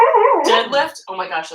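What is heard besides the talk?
dog howling while dreaming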